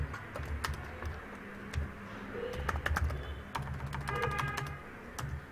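Typing code on a computer keyboard, with clusters of crisp key clicks in irregular bursts and short pauses, close and fairly quiet, with no talking.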